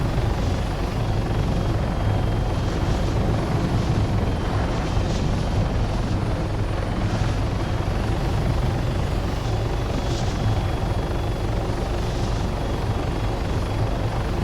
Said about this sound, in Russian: летная модель позволяет делать какую-то аэробатику на этом вертолете